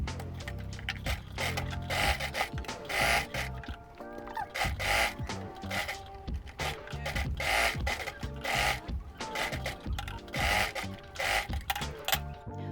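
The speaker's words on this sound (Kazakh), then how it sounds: "Қазір енді осыны жиектеп қана тігіп шығамын." A sewing machine runs in bursts with steady rhythmic stitching as it hems the edge of a girls' apron, close and fairly loud, with brief pauses between runs and some handling noise.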